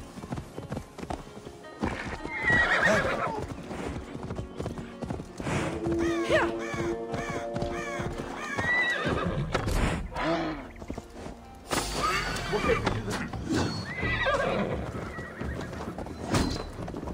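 In the video game Assassin's Creed Valhalla, a horse neighs and whinnies repeatedly over steady clip-clopping hooves, with bird caws and other game sounds around it.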